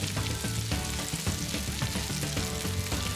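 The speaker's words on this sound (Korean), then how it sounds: "너릇너릇 맛있는 소리 내며 익은 볶음밥은 크게 한술 떠서 입속으로 쏙" Fried rice mixed with barley sizzles hard in an oiled pan, a dense, continuous crackle with stirring and scraping close up, and no voices.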